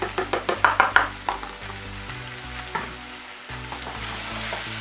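Liver frying with curry powder, crushed stock cubes and spices sizzles steadily while a spoon scrapes and knocks against the pan in a quick run of stirring strokes, then eases into continuous frying.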